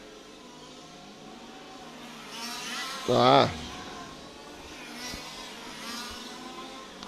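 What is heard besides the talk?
touring race car engine still running after losing a wheel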